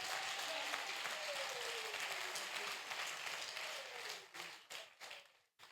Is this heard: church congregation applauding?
yes